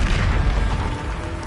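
Bombarda explosion spell in a Hogwarts video game, a loud deep boom with a rumbling, sustained low roar that fades slowly.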